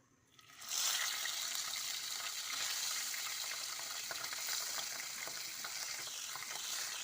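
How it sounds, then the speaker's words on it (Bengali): After a quiet moment, pabda fish hit hot oil and set off a sudden, strong sizzle that keeps frying evenly and close at hand. "বাকি মাছগুলো আমি সেমভাবে ভেজে নিব।"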